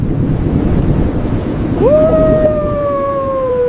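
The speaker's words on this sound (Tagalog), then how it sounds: "Ang lakas ng hangin!" Strong wind roaring steadily in gusts, with a rising tonal wail emerging partway through.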